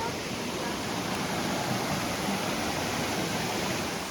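A waterfall in Ubud, Bali roars in a steady, dense rush of falling water, close and constant, with no break over the few seconds.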